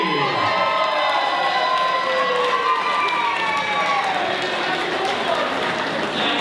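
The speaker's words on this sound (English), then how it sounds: "let's have a nice round of applause for the brother of the bride" Wedding guests greet the bride's brother with loud cheering, shouts and whoops over clapping, a lively crowd roar with excited voices rising and falling throughout.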